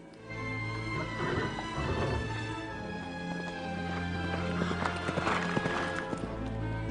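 Horse hooves clip-clop at a steady pace under a layer of sustained music, the rhythmic clopping carrying clearly as the horse is ridden off.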